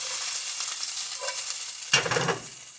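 Red bell pepper fries in a pan alongside crushed garlic, a close sizzling hiss interrupted by one sharp clank of a utensil and a burst of stirring.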